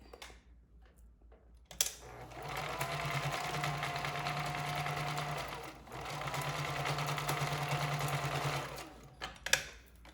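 A sewing machine stitches a folded fabric face mask in two steady runs of several seconds each, a close, even motor whir with a short pause between them and quiet handling sounds before and after.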